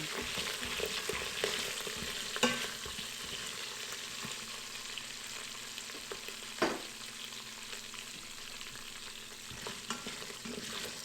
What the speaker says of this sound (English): Next go the onions, so I want to brown them a little bit.